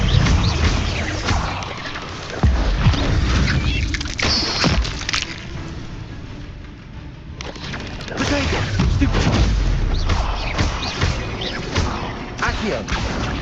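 Spells, including Incendio, fired in the Hogwarts Legacy video game produce a dense run of booming, crashing magic blasts with thumps and whooshes, loud and busy throughout, while a voice talks in between.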